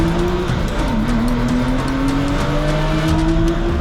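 Porsche race cars in the Porsche Club Motorsport Championship roar off the start together, engines droning loud and continuous with rising revs and a brief tire squeal, no voices over them.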